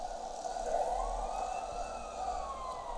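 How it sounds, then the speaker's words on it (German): Wailing emergency siren from a vehicle in the city-building game SimCity 4, a rising and falling electronic tone over a low engine rumble, steady and moderately loud without voices. "mit der Sirene kann uns nichts passieren"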